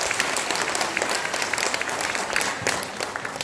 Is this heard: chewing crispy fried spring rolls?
no